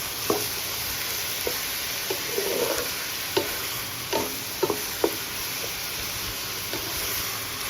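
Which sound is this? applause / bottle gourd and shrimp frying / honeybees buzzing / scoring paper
bottle gourd and shrimp frying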